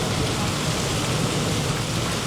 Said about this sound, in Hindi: बिजली भी कड़क रही, बारिश भी हो रही लगातार।